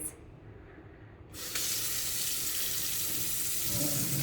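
Water bursts on and runs steadily from a kitchen faucet sprayer, a continuous hissing spray after a brief quieter moment.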